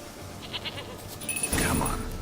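A goat named Princess bleats in The Witcher video game, a short wavering cry that rises near the end over quiet game ambience.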